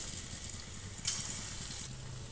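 Soft, steady sizzling of lentil fritters frying in hot oil, a continuous hiss at low volume with no voices.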